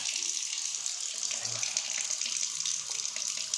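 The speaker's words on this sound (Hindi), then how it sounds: "पानी कितना बढ़िया जा रहा है" Water rushing steadily from a shortened pipe on a house rooftop, a continuous close hiss of flow with no pauses and no voices.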